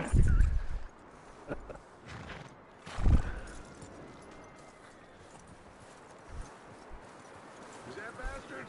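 Horse hooves in Red Dead Redemption clop and thud in a few heavy bursts, with faint snorting and movement between, set against a low ambient background.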